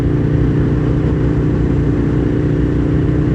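An Aprilia RSV Mille R V-twin sport motorcycle being ridden, its engine a loud, steady low drone with constant wind rush and no talking.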